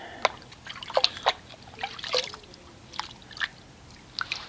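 A hand stirs Nanoskin Wash and Shine Cherry Suds car wash shampoo through water in a bucket, giving soft, irregular sloshes and trickling splashes spaced a second or so apart, close and fairly quiet.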